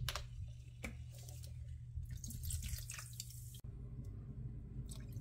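Sprite soda, 250 ml, is poured over raw chicken livers in a kitchen, giving a quiet liquid splash and fizzy trickle with scattered drips, faint and close, without talk.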